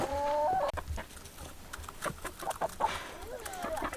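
Several chickens cluck and squawk close by, with a sharp rising call at the start followed by scattered clucks and chatter.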